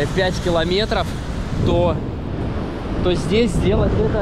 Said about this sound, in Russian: Периодично волны выхлестывают на пляж.